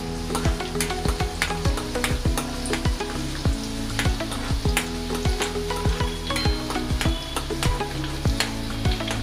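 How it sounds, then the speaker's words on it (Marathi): Garlic frying in oil in a pan on a low flame for Manchurian gravy: a loud, dense, unbroken sizzle packed with rapid crackles and pops, close and without speech. "बघू शकता आपली ते लसूण फ्राय होते आहे"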